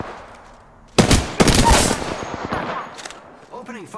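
Automatic weapon fire in the Apex Legends game erupts in a loud, dense burst of rapid shots that trails off into scattered impacts and game effects, with a voice briefly audible.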